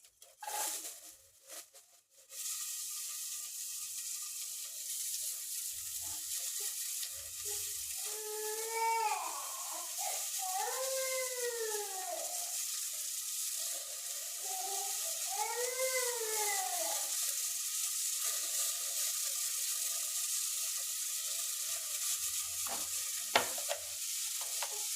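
Onions fry in a pan for tomato bath, giving a steady, close sizzle throughout with brief stirring scrapes and some intermittent whining background sounds.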